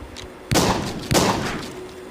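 Two loud shotgun blasts from the zombie shooter game The Walking Zombie 2, about half a second apart, each a sharp burst with a trailing boom, over a low game backdrop.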